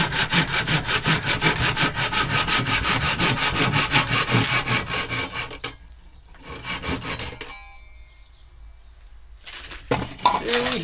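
A hand plane shaves the wooden headstock of an EKO MM300 bass in steady, rapid back-and-forth rasping strokes, loud and close, then stops briefly before a few more strokes and some scraping and clinks.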